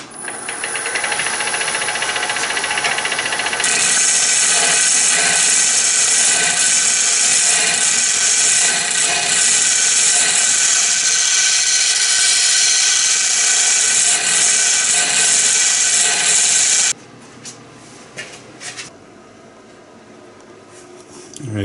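A wood lathe spins and cuts off turned pieces, giving a loud, steady high-pitched whine and cutting hiss for about seventeen seconds before it suddenly drops to a quieter, rougher rattle near the end.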